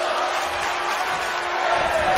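A capacity crowd at a wrestling match in WWE 2K19 roars with a steady wash of cheering and shouting throughout, never dropping away.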